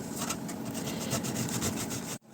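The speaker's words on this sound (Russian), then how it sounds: "Теперь сюда надо потереть небольшой кусочек сыра, грамм 100, на мелкой терке." A small piece of cheese, about 100 grams, rubbed on a fine grater, giving a fast rhythmic scraping rasp up close that stops sharply near the end.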